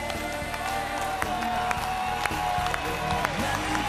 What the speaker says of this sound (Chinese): 掌声送别他们，祝你们幸福。